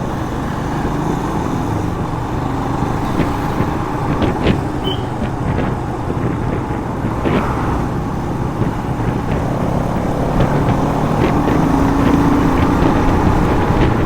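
A Hero Karizma XMR motorcycle engine running under load, a steady loud drone with faint rhythmic ticks throughout and no clear pauses.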